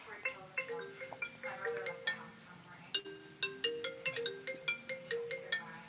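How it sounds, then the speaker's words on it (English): A mobile phone ringtone goes off, a bright melodic chime playing repeated rhythmic notes at moderate volume, quick plucked tones running throughout without any speech. "Whose phone is going off? that's my phone."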